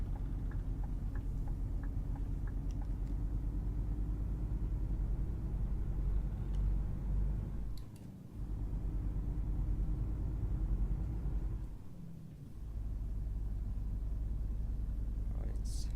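A Scania P Series truck engine in the Euro Truck Simulator 2 game rumbles steadily at low pitch under a voice, with a faint rhythmic ticking and brief dips in the drone around gear changes.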